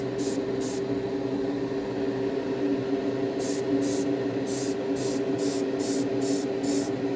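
Short hissing bursts of spray paint go onto a model railroad boxcar, with two quick puffs early and then a rapid series of evenly spaced sprays, close over a quiet background hum.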